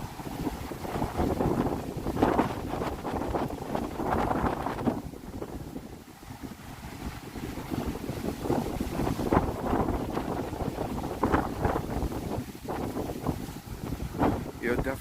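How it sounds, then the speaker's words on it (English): Strong wind blowing outdoors on an extremely windy walk by the Brooklyn waterfront, buffeting the microphone in continuous loud gusts, with voices faintly underneath. "Yes, it is extremely windy."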